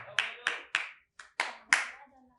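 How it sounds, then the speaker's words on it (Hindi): A few sharp, distinct hand claps from a small class in a Brahmi script lesson, six separate claps in an uneven rhythm, close and clear in a quiet room. "हाँ अर्चना, अर्चना के लिए जोरदार तालियां।"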